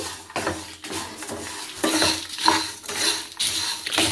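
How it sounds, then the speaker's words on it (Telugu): A spoon mixes chili powder into a poha (flattened rice) mixture in a pan, giving close, repeated scraping and clinking strokes over a faint sizzle, with no voices. "అలాగే హాఫ్ టేబుల్ స్పూన్ కారం వేసుకోవాలి వేసి బాగా కలబెట్టుకోవాలి"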